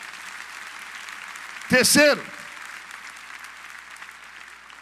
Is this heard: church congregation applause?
yes